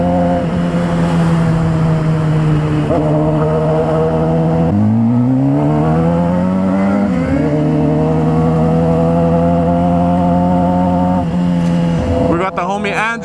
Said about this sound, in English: The homie Andrew on the Honda CBR 600 RR.